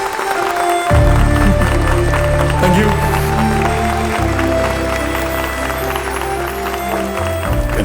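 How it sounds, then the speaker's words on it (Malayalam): An audience at a Malayalam film promotion event claps loudly and steadily for an actor's performance, under loud stage music and a brief spoken thanks. "വലിയ കൈയടി"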